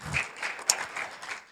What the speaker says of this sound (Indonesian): Oke, beri tepuk tangan buat Tuhan untuk semuanya.